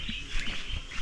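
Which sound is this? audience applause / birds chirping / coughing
birds chirping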